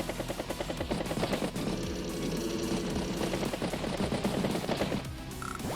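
Battlecopter attack in the Advance Wars video game: a steady whirring rotor drone layered with rapid rattling machine-gun bursts, loud and continuous with a short chime near the end.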